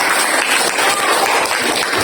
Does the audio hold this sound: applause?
yes